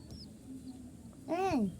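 A single faint high peep from a young chick near the end, over quiet room noise.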